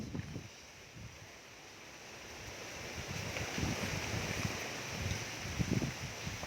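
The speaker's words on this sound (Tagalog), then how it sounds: "Malakas po ang hangin." Strong wind rushes and buffets the microphone in an open outdoor spot, a steady roar that swells and gusts, with low thumps and no talk over it.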